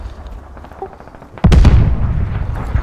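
Mortar rounds fired in the video game Squad, a sudden heavy boom that hits hard and rolls into a sustained loud rumble after a quieter stretch of distant battle noise.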